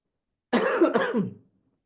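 A single harsh cough with two quick bursts, close to the mic, in otherwise quiet surroundings.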